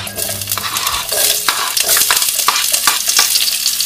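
Onion tipped into a hot frying pan already holding meat and red and green peppers, bursting into a loud sizzle with spatula scraping and stirring clatter, close and continuous.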